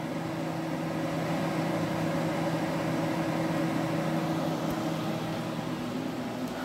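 A pot of water boils on a stove turned to high, giving a steady, even rushing hiss with a faint underlying hum that holds constant throughout, with no talking.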